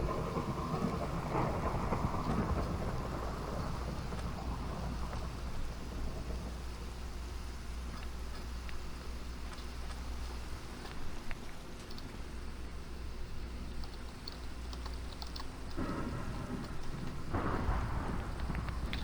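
Rolling thunder and steady rain from a storm over the ocean in Minecraft, low rumbling swells under a constant rain hiss, loud and continuous, with a heavier burst near the end.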